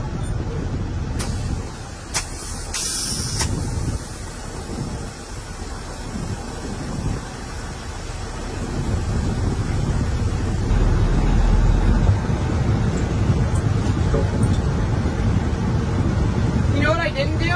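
A vehicle cabin during harvest season, with a steady, continuous road and engine rumble and wind noise while someone talks over it; the rumble grows louder and rougher in the second half.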